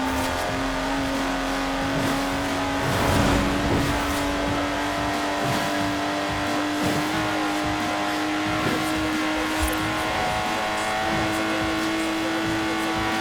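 A Lotus Exige's engine drones steadily as the car drives in Forza Horizon 4, a loud, sustained hum that rises and eases slightly with throttle and runs the whole stretch without talk.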